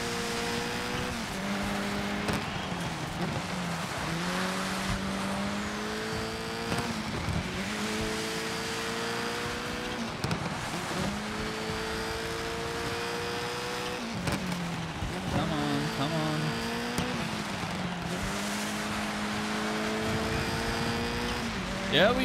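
Race car engines in Dirt 5 rev and shift through the gears in long rising whines, with tires squealing through corners and a steady roar throughout while a voice talks over the racing.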